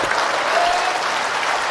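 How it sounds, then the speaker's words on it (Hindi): Religious gathering crowd clapping at a Pandokhar Sarkar darbar, a steady dense wash of applause that holds evenly loud from start to finish. "एक बार ताली तो बजा दे जी, हाथ उठा के, अच्छे से हाथ उठा के, दोनों हाथ उठा के हो जाइए"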